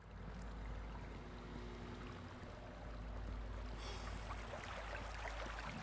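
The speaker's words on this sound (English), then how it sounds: "I hear the water, so we've got to be on the right level." Steady flowing water on a level of the horror video game Cage Face 2, a continuous close rushing wash with a faint hiss that brightens slightly near the end, no talking.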